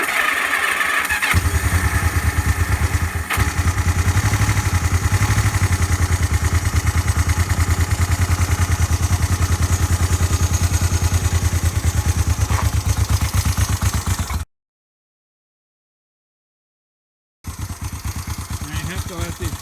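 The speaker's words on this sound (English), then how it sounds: "turn the ignition on, neutral green, and push the starter button" A 1976 Honda CB500T motorcycle engine cold-starts with a starter crank and settles into a loud, steady, throbbing idle up close, broken by a brief gap of silence near the end before the idle resumes.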